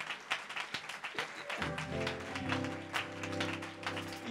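A church convention congregation claps hands, a loose run of individual claps building into fuller applause, with organ or keyboard chords sustained underneath.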